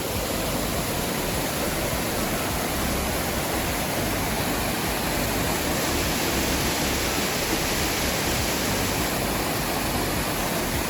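Awao Falls roars as a constant, dense wash of falling water, loud and unbroken throughout with no voices over it.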